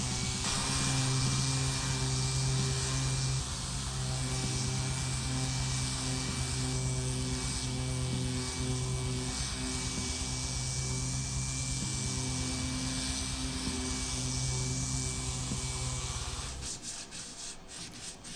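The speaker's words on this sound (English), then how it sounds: "sand the binding down to the level of the guitar body" Sandpaper rubbing down binding on a Telecaster-style guitar body, a continuous close rasping scrape with steady strokes, alone, fading at the end.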